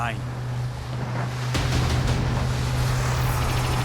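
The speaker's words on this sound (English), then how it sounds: "Le temps, il est avec nous là, il y a du vent, du soleil." Wind gusts over open sea off a Panama island, a constant rough buffeting roar close to the microphone with a low steady drone underneath.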